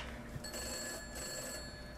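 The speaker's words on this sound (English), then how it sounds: "Okay, now the phone is ringing." A telephone rings in the horror video game Gray Dawn, a steady electronic bell tone with a short break between rings, clear and fairly close against a low ambient background.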